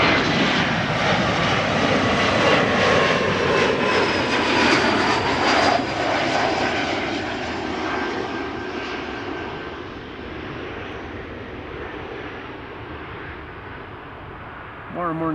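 An airliner, flight 1088 from Cardiff, lands at Amsterdam Schiphol Airport with a loud, rushing engine roar. The roar holds strong and then slowly recedes to a steady drone, with faint talk underneath.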